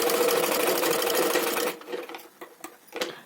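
Sewing machine stitching a lined blouse, running fast and steady with a dense whirring drone, then slowing into scattered separate stitch clicks and pauses, close by.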